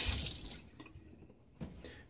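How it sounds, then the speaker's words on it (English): Water is splashed by hand onto the neck during a wet shave, giving a brief splash at the start followed by a few faint drips in a quiet room. "Let me splash a little bit of water on my neck there."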